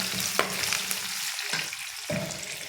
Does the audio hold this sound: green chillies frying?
yes